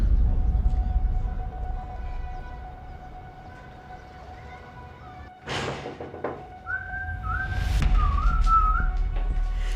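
A bright, melodic whistled tune of a few short gliding phrases, heard after a sharp knock, over a low steady background hum.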